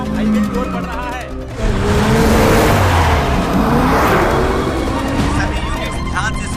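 A suspect's car speeds toward the highway, its engine loud and close as it revs and accelerates, with a whooshing rush partway through and voices speaking over the noise.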